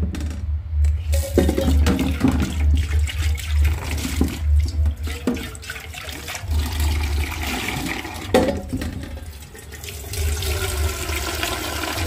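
Water runs from a tap into a pot, a steady gushing splash that fills the clip with no talk, later to be boiled on a gas stove.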